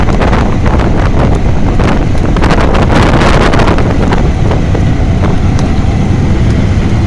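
Strong wind buffets the microphone in a constant roaring rush, loud and unbroken throughout, with no voices.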